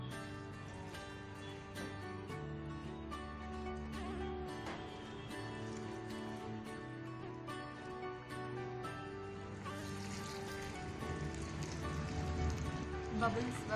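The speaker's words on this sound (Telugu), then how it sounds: "సో దీన్ని మనం ఫైనల్ గా దీన్ని డీప్ ఫ్రై చేసుకుందాం" Marinated chicken deep-frying in hot oil gives a steady, dense crackling sizzle, close and continuous, that grows slightly busier toward the end while a voice talks over it.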